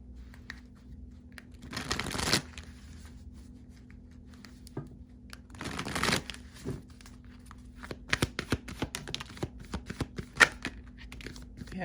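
Tarot cards are shuffled in two short riffling bursts, then handled with a series of quick taps and slaps as they are laid out, all fairly quiet and close, with no speech.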